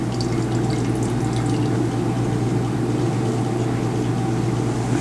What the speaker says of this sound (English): we'll pour the top layer out